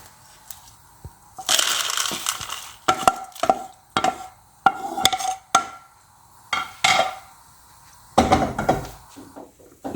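Roasted dried red chillies and curry leaves pounded on a plate for a kuzhambu masala: a run of loud, irregular crushing thuds and knocks, clustered in bursts with short pauses, close up and alone.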